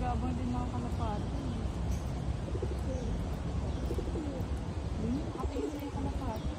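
Pigeons coo softly several times amid steady outdoor traffic noise, with murmuring voices in the background.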